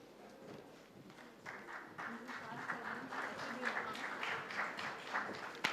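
Audience applause at an auto retail conference's inaugural session, greeting a felicitation on stage: crowd clapping swells after a quieter start and holds steady, with faint voices mixed underneath.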